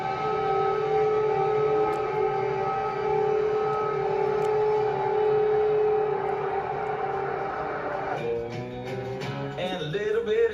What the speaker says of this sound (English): The air siren goes. You hear the sirens.